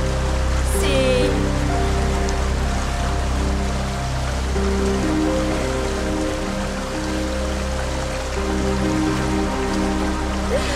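River water rushes and splashes in a steady, close, unbroken flow that fills the whole stretch.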